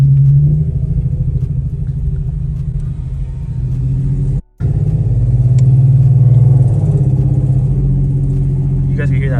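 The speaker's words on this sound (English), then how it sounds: "You guys can hear that exhaust leak." A car with an exhaust leak rumbles steadily at low pitch while driving down a street, broken by a brief silent gap midway; voices talk over the engine throughout.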